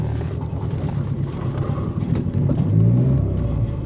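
A car engine, still cold and being warmed up, is pushed to full throttle and strains sluggishly, its low droning rumble swelling louder toward the end before easing slightly, with no voices.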